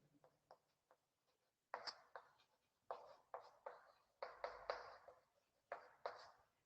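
Writing on a board produces a series of quiet taps and short scratching strokes in an uneven rhythm, faint and close.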